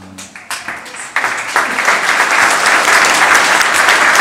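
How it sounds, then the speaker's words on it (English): Applause begins with a few scattered claps, then quickly swells into a loud, full round from a large audience that keeps going steadily at close range. "Go ahead and keep clapping"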